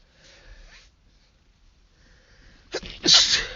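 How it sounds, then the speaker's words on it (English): A man sneezes once, loud and close, after a quiet breathy lead-in and a short pause, ending in a sharp explosive burst with a brief tail. "I sneezed"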